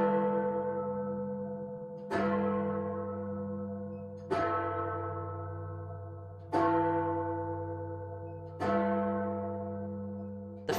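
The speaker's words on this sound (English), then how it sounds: "awakened at 12 by the bell" A church bell tolls at midnight with slow, heavy strokes about two seconds apart, each one ringing out and fading before the next. Five strokes are heard, clear and alone.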